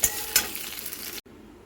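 Potatoes frying in a pan of oil for Bengali dhokar dalna, a steady close sizzle with two brief clinks near the start, then the sound cuts to quieter frying for the last half second.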